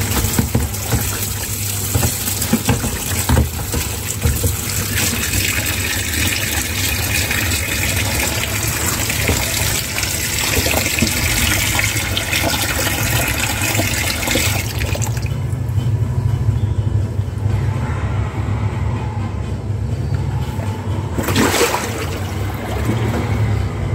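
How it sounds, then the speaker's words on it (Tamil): Water gushing steadily from a tap over a kitchen chimney baffle filter being rinsed clean, a continuous close splashing flow for the full stretch, its tone shifting partway through. "இப்போ வந்து நார்மல் வாட்டர் நான் வந்து ஃப்ளஷ் பண்ணுறேன்."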